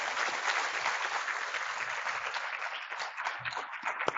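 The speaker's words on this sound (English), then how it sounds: "Please give a round of applause to our founding partners" Steady audience applause for founding partners at a health equity event, a dense continuous wash of many hands clapping that holds level throughout and thins slightly near the end.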